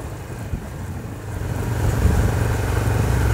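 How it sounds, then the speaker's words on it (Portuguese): Motorcycle riding along a road near the town of Bananeiras, Paraíba, its engine a steady low drone that builds slightly louder partway through, with no talk over it. "Isso é bom numa moto."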